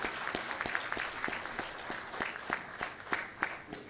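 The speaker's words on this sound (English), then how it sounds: "with a big round of applause, let's welcome the Honorable Minister to our midst" Applause welcoming a minister at a session on shipbuilding and ship repair, heard as fairly quiet, distinct, rhythmic claps, roughly three per second, sounding like a smaller group clapping in unison.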